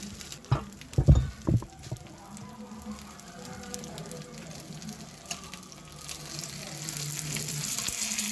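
Mackerel fries in a pan with a soft, steady sizzle and crackle, opening with a few sharp knocks and clatters of utensils against the pan.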